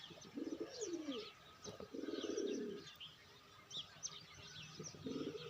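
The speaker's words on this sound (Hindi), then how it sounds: "ये सब कबूतर खा पी कर मस्ती मारने लगे" Pigeons in a loft coo in repeated low, throaty phrases, with light chirps and small rustles between the calls, close and fairly quiet.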